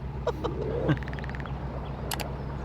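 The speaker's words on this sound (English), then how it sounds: "The bird song woke us up and the cuckoo." Morning birds call near a canal where a narrowboat is moored: a rapid run of repeated chirps and a few scattered higher calls over a steady low engine-like hum, moderately distant.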